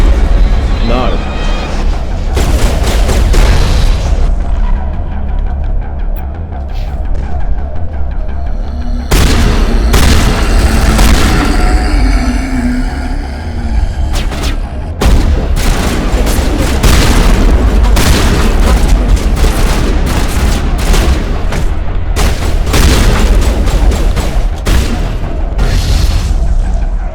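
Gas grenade explosions and combat in Mass Effect 1: repeated loud booms and bursts of gunfire pile up over a continuous heavy rumble, dense and close throughout.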